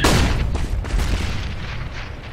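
Grenade explosion in the CS:GO video game: a single loud, close boom with a heavy low rumble that decays slowly over about two seconds, no voices.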